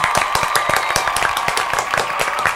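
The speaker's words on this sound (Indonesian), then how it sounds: "Tepuk tangan dulu dong." A few people clap briskly together for a couple of seconds, a dense patter of hand claps nearby.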